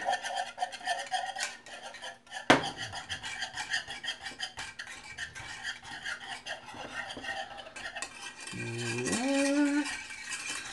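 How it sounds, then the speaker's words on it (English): Cream cheese marinara sauce being whisked by hand in a pot, a continuous rhythmic scraping and rasping of the whisk, with a sharp clink early on and a rising tone near the end. "Keep whisking it until it's smooth enough to my liking."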